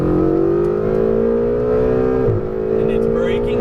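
A Ferrari 488 GTB on the Las Vegas Motor Speedway track, its engine droning steadily under throttle and climbing in pitch, with a brief dip around a gear change before rising again, loud and close from inside the car.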